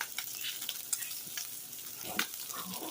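Polish bacon frying in an omelet pan, a soft steady sizzle and crackle close up, dotted with small pops and the faint scrape of stirring.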